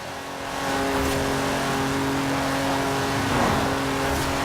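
A Jaguar E-Type's engine revs loudly and steadily in Forza Horizon 4, holding a close, continuous drone that climbs briefly near the end, with no one speaking.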